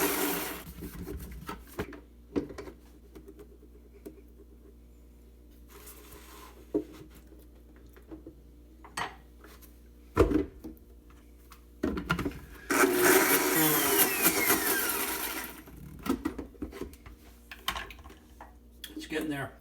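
A blender chopping and whirring through oily fresh pesto, with intermittent bursts of motor noise, clatter and knocks against the container, and a louder sustained run near the end.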